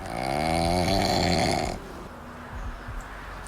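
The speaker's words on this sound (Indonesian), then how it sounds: "Siapa sih itu yang ngorok?" A cow snores loudly and close in one long, harmonic rasping inhale, followed by a quieter, rougher breath with faint clicks, and no one speaking.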